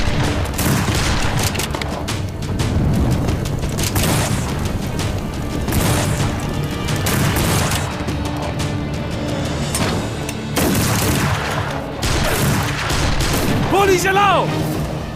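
A battle scene in a Turkish historical drama dubbed into Urdu, with dense, continuous gunfire and booming explosions, loud and chaotic throughout, mixed with shouting voices.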